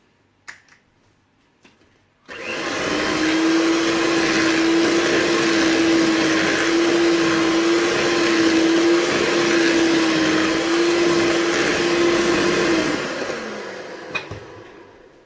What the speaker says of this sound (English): We're going to mix the eggs one by one.